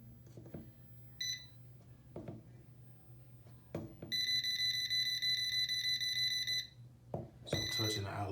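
An AC non-contact voltage detector held at a live bathroom outlet gives off a steady electronic beep lasting a few seconds, then a second burst begins, with light handling clicks before and between the tones.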